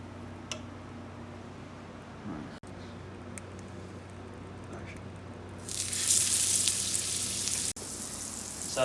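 Burger patty frying in an oiled pan, a soft steady sizzle that swells into a brighter, hissing crackle partway through, with light kitchen handling noises.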